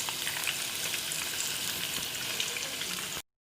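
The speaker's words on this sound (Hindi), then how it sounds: "बैंगन फ्राई हो चुके हैं गोल्डन ब्राउन से, बहुत ही क्रिस्पी से जो हैं वो फ्राई हुए हैं।" Brinjal slices frying in hot oil until golden brown and crispy, a dense steady sizzle and crackle close up, continuous until it cuts off abruptly near the end.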